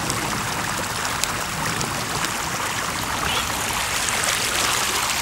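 Floodwater pours out of a pond's overflow during Texas floods in May 2015, a continuous loud rushing and splashing stream with no letup, heard close by and alone.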